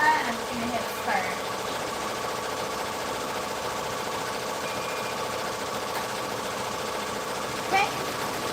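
An embroidery machine stitching a one-step appliqué design, a steady fast mechanical stitching hum with faint rhythmic knocking, running continuously at close range.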